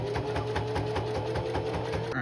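A sewing machine stitches a seam on thick sweatpants fabric, its needle hammering in a fast, even mechanical rhythm close up and steady throughout, stopping abruptly at the end.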